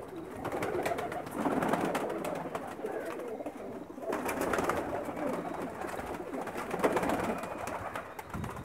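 Flock of red Chinese flying pigeons, all males, cooing together in a steady, overlapping murmur of soft throaty calls that swells and fades over several seconds, close and continuous without any talk.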